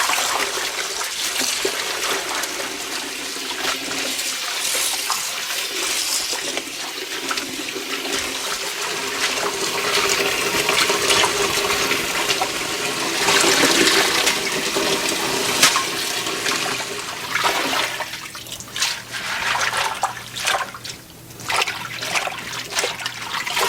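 Running water pours steadily as cut collard greens are washed by hand in a sink, a continuous close splashing and trickling that swells in the middle and turns more broken and gurgly toward the end.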